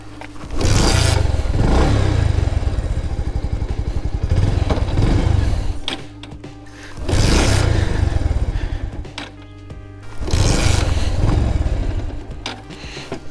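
A stalled motorcycle being restarted and revved outdoors in a hill setting, with three loud, close bursts of engine revving separated by quieter idling and clattering between them.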